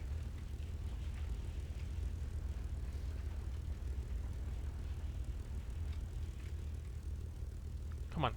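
Aircraft engine droning steadily during a landing approach in War Thunder realistic plane battles, a constant low rumble at moderate distance with no talk, ending in a brief rising whine.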